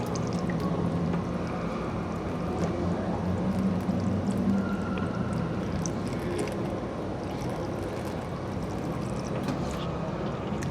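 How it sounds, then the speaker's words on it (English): Water pours steadily from a drinking fountain at an indoor auto show, a faint continuous splashing trickle set against a hum of crowd noise. "get some water from the water fountain"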